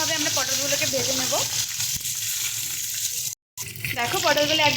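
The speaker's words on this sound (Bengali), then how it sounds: "সুন্দর করে উল্টে পাল্টে লাল লাল করে আমরা পটলগুলোকে ভেজে নেব।" Pointed gourd (potol) frying in hot oil in a pan, a steady loud sizzle with stirring throughout, broken by a brief silent gap.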